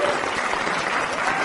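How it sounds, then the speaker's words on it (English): A studio audience applauds, loud and close. The dense, even clapping fills the whole short stretch without a break. "Let's give him a round of applause there."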